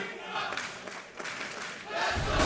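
A crowd in an esports arena roars and cheers during a Counter-Strike match at ESL Challenger Melbourne 2022, a broad, distant wash of voices that swells toward the end.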